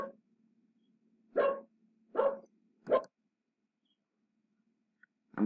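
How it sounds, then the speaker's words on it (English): A dog barks three times in fairly quick succession, with a fourth bark starting at the end, against a faint steady hum in an otherwise quiet indoor setting. "Say the dog had gone back into the room, was barking over there, now it's coming back to the front door."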